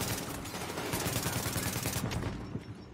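Rapid bursts of gunfire rattle through a shooter game firefight in The Division, dense repeated booming shots close and loud for about two seconds, then tapering off.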